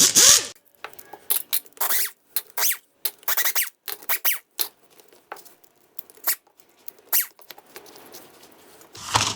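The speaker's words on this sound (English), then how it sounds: "So I just have a pie tin I'm going to be throwing it all in." Old outboard motor hardware from a Johnson 15 HP rebuild, small metal bolts and parts, tossed into a metal pie tin, giving a string of short bright clinks and rattles close up, with no voices.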